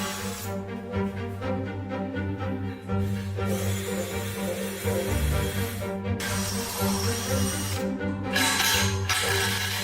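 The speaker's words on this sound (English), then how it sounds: "Drill fixing holes." A power drill bores fixing holes for a Slimline Visofold bifold door installation, whirring steadily and close with short pauses and pitch shifts as the bit works through the frame.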